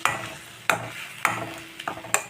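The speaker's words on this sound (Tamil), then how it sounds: "இப்போது கொஞ்சம் நேரம் வதக்கிட்டு" Vegetables for aviyal are stirred and sautéed in a pan with a metal spoon, giving four or five distinct scraping clanks spaced about half a second apart over a faint sizzle.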